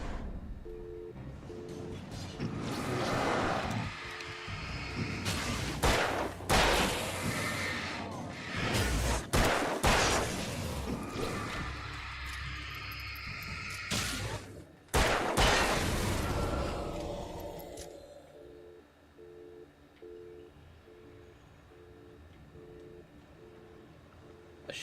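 Shotgun blasts fire in the video game Alan Wake 2, several loud, sharp booms spaced irregularly across the stretch with crashing impacts, then a quieter ambient tail with no talking.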